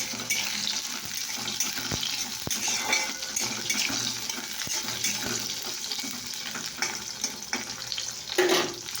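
Lentil badi frying in hot oil, a steady dense sizzle and crackle that holds throughout with small pops and a brief louder flare near the end, no voices.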